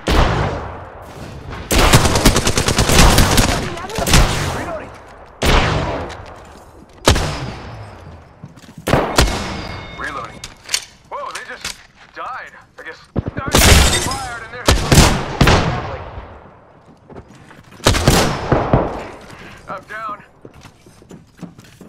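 Bursts of automatic gunfire in the video game Apex Legends, loud, rapid volleys repeating in several separate bursts across the stretch, with mechanical weapon handling and game voice lines between them.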